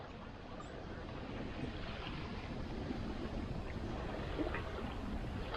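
Wind rushes steadily past a sailboat heading out of a bay on the Baja west coast, a broad, constant roar with faint water movement underneath and no speech.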